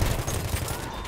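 Sustained, loud automatic gunfire from an MG14/17 light machine gun in the video game Battlefield 1, a dense continuous rattle filling the whole short burst.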